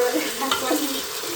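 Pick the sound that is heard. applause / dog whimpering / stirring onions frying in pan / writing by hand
stirring onions frying in pan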